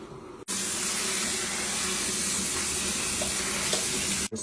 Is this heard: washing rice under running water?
yes